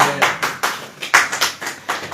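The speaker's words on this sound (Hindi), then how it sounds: "ताली वाली बजेगी कि नहीं?" A church congregation claps in rough rhythm, a run of sharp hand claps at a steady beat, close and fairly loud with no talk over it.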